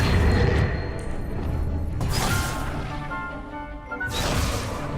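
The Accio summoning charm is cast in Hogwarts Legacy, heard as heavy crashing, whooshing magical bursts that swell and fade in several loud waves.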